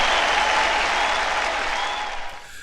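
A burst of applause plays at the opening of a live-streamed show, loud and continuous, then fades away over about two seconds.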